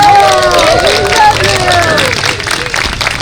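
A crowd at an evening holiday parade in Carpinteria applauds steadily, with cheering voices and chatter mixed into the loud, continuous clapping.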